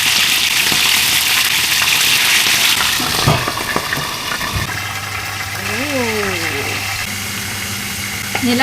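Fish sizzles steadily in hot oil in a home kitchen, a continuous loud frying hiss with occasional pops and clinks of utensils, while faint background sounds shift underneath.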